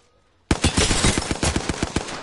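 Gunfire in a video game shootout: a sudden, loud burst of rapid automatic fire kicks in after near silence and holds as a steady, evenly spaced stream of close shots, with no talking over it.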